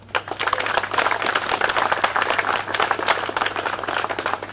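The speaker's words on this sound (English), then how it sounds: "If you believe that, give Wayne a hand clap." Crowd at an outdoor street dedication ceremony for Wayne E. McAllister in Brockton clapping steadily for about four seconds, a dense patter of many hands at moderate volume with no voices over it.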